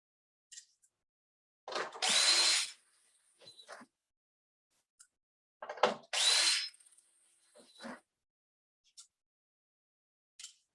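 Power drill driving screws into an air handler coil during a horizontal-left conversion: two loud, close bursts of about a second each, separated by quiet gaps with small clicks and handling knocks.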